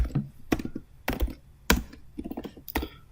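Python code being typed on a computer keyboard, close and fairly quiet, with bursts of quick key taps broken by heavier thunks, likely the space or enter key, at uneven intervals.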